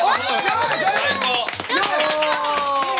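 Hands clap in a lively studio game show with comedians stacking blocks, steady rhythmic clapping under excited overlapping talk and cheering voices.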